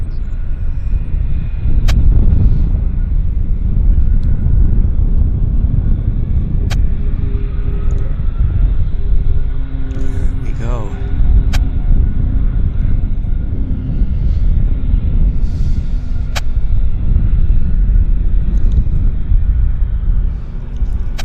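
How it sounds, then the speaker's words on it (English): A United Airlines jet arriving from Denver on approach to Vancouver airport gives a steady, loud, broad engine roar and rumble that holds throughout, with faint whining tones drifting in and out. "Another United Airlines from Denver is on approach right now."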